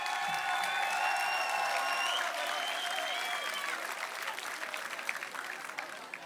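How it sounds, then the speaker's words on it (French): An audience at a live concert applauds and cheers, a dense wash of clapping that starts loud and gradually thins out and fades over several seconds. "Sous vos applaudissements, s'il vous plaît."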